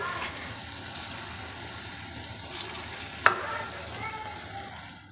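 Raw banana kofta balls frying in hot oil make a faint, steady sizzle with light crackle, broken once by a single sharp metallic clink midway.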